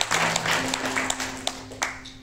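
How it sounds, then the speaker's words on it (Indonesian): Congregation applause at an Indonesian church Sunday service, a short burst of scattered clapping over a steady low hum, with a few sharper claps standing out near the end. "Berikan tepuk tangan dulu buat Allah kita."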